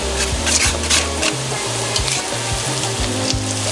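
Onions and garlic sizzle steadily in a hot pan for a Filipino dish, with broadband frying hiss throughout and occasional brief stirring scrapes, close and fairly loud, no voices.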